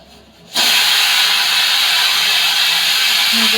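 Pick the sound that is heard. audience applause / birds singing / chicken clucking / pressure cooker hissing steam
pressure cooker hissing steam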